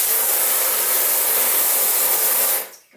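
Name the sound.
cloth diaper sprayer hose spraying water into a bathtub at strongest pressure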